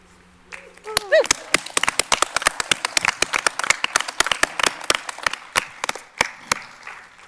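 At a school board meeting, a small audience claps for students being congratulated, the sharp individual claps close and distinct, building quickly after a brief voice and then thinning out toward the end.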